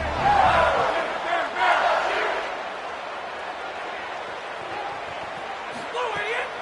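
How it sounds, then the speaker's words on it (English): A stadium crowd at a football game, on their feet yelling and screaming, fills the clip with a loud continuous roar that swells in the first two seconds, while a voice talks over it. "for an entire game, they are on their feet, yelling, screaming"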